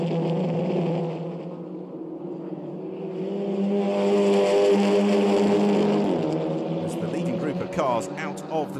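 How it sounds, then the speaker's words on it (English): SEAT León Eurocup race cars accelerate out of the Vidal chicane at the Nürburgring, engines droning and rising in pitch as they pass, with steady commentary running over the noise throughout. "Cars out of the Vidal chicane."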